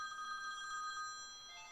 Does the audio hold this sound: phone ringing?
yes